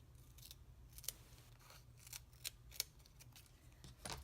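Scissors snip through paper for a tropical-themed craft, several distinct crisp cuts spaced irregularly over a quiet room, close and fairly soft, with no talking.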